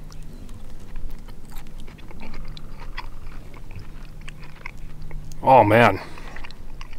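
Close chewing of crispy, caramelized thick-cut bacon candied with syrup and cayenne over a campfire, soft crunching bites under a low murmur with a brief spoken exclamation.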